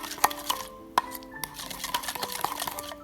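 Roast duck sauce of red fermented bean curd, oyster sauce, soy sauce and rice wine being stirred in a bowl, with a few sharp clinks of utensil against the bowl over soft, steady mixing.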